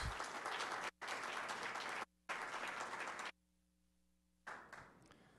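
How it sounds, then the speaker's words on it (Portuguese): Audience applause at a transmission planning workshop comes in three loud bursts of dense clapping separated by abrupt short gaps, then a quiet stretch with a faint hum before a final, fading burst. "A salva de palmas ao participante."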